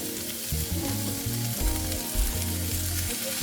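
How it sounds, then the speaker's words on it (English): Onions crackle and sizzle in hot oil over medium-high heat, a dense steady frying sound close by, with faint clinks of stirring. "started on a medium high so we can get some sizzle, we're gonna drop these onions"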